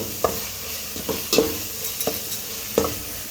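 A spoon scrapes through masala frying in a pan for kuska biryani, with a soft sizzle underneath and several distinct stirring strokes at an uneven rhythm, close and fairly quiet.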